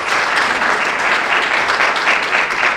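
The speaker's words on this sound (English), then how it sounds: "Let's just give them a round of applause." An audience at a business-executives event gives sustained, loud, even applause that holds steady throughout without a break.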